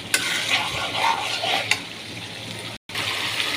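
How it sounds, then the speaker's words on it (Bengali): Duck skin being sautéed and stirred with spices in a pan, a steady oily sizzle with scraping stir strokes throughout, close and fairly loud, no talk. "এখন সুন্দরভাবে কষিয়ে নেব আবারও আমি মশলার সাথে মিশিয়ে।"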